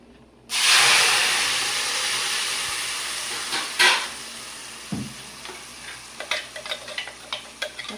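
Ground green masala hitting hot tempering of cinnamon, cardamom and cloves for green rice, a sudden loud sizzle that slowly fades, then a clatter and a series of light spoon taps against the pan.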